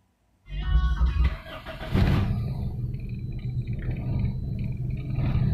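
A Toyota Great Corolla engine cranks briefly and catches, then settles into a steady, loud idle rumble close to the microphone with no talking.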